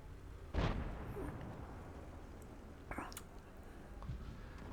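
A Waffenträger tank gun in a tank battle game fires one sharp, booming shot early on, followed by a fainter second crack and low rumbling ambience throughout.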